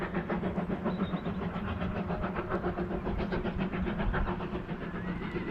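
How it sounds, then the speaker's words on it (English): A steam train runs somewhere out of sight behind a canal, heard as a steady, rhythmic chugging and rumble, moderately faint and distant with no voices over it. "There's a steam train somewhere behind there."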